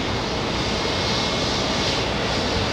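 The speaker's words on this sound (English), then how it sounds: "We got JetBlue taxiing to gate 2 here at Terminal 5." JetBlue airplane taxiing at JFK Terminal 5 in New York, a steady loud jet engine roar and hiss holding constant throughout with no voices.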